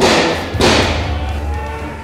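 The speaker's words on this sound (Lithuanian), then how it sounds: "Šūvis." A single loud, sharp bang from a gunshot during a police training exercise, with an abrupt onset and a short decaying echo, followed by a second fainter thud-like report.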